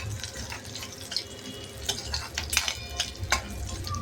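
Garlic tempering in ghee for dal tadka, a steady close sizzle and crackle with scattered sharp pops and clinks of a spoon against the pan, with no talking.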